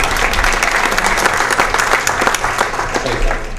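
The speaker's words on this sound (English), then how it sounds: "Give Scott a big round of applause." An audience at a town hall meeting with the mayor claps for Scott, a dense, loud burst of steady applause from a room full of people, sustained throughout without letting up.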